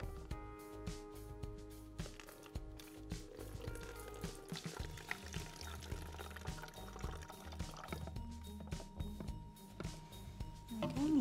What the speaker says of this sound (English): we're gonna put about a cup of hydrogen peroxide into the bottle